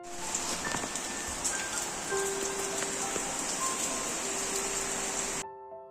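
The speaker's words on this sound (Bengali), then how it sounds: "বাইরে ঠিক কতটা জোরে বৃষ্টি হচ্ছিল দেখো" Heavy rain falls outside as a dense, steady hiss with scattered drips and a faint tonal hum, ending abruptly in silence.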